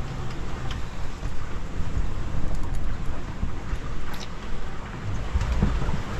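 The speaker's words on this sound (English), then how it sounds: "Windy night. Windy and forecast." Steady, blustery wind roaring across open sea at night, with low rumbling gusts rising and falling throughout and no voices.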